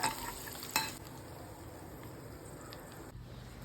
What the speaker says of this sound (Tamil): இப்போது முந்திரி திராட்சை வறுத்து போட போகிறோம்.